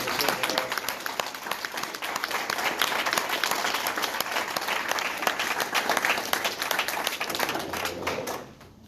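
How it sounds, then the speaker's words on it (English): Audience applause at a Democratic candidate forum for North Carolina's District 11: dense, steady clapping from a crowd, loud and sustained for about eight seconds before tapering off at the end. "let's give them all a round of applause"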